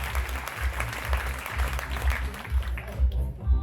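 Audience applause at a 2023 fashion show, a dense wash of clapping running over a thumping, regular music beat, fading slightly toward the end.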